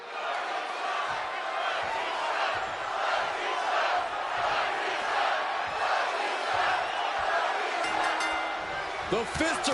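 Roaring arena crowd at a WWE 2K wrestling match, a dense, steady wash of cheering and shouting that holds loud for the whole stretch, with a brief sharper burst near the end.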